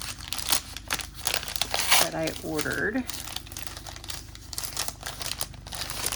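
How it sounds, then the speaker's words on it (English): Paper crinkles and rustles in a few close bursts while unboxing a planner, with a person speaking briefly over the handling noise. "Hopefully the paper won't be too terrible to hear."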